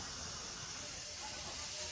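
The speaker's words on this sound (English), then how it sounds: "I put it in the sink and let the water run off to release the pressure" Steady hiss of steam escaping from a pressure cooker held under running tap water in a kitchen sink, a continuous broad rushing sound that stays constant and moderately loud throughout, with no talking.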